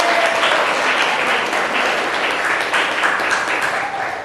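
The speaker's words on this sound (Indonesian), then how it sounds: "Tepuk tangan dulu." A classroom of students claps for a winning group, dense, even applause filling the room at full volume for several seconds without letting up.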